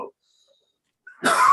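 A single harsh cough bursts out loud and close, following a brief vocal sound and a pause of near silence.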